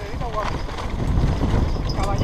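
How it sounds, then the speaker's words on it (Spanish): A horse on a trail in the Serralada de Marina hills, hooves clip-clopping in a steady close rhythm under wind buffeting, with people talking nearby. "Caballito."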